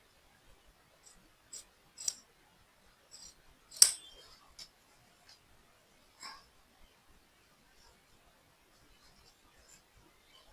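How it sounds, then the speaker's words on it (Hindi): Scissors snipping blouse fabric while cutting a prince-cut blouse neckline, a handful of sparse, quiet clicks and snips spread across a near-silent stretch. "अब मैं इसको आपको काट के फिर दिखाती हूँ।"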